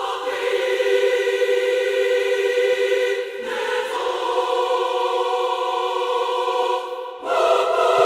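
Female choir virtual instrument singing two voices together in a Star Wars style orchestral mockup, with sustained harmonic vowel tones shifting in chords, steady and fairly loud with brief dips between phrases.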